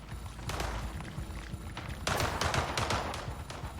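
Rapid bursts of SMG fire in the arena shooter Splitgate: Arena Warfare, dense crackling shots layered over game noise and a low rumble, fairly close and continuous.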